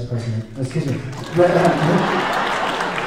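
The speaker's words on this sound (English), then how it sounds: "Please give a round of applause to our former U.S." A theater audience at a Martin Luther King Day event breaks into applause for former U.S. Representative Barney Frank; someone speaks briefly first, then the clapping swells and holds steady.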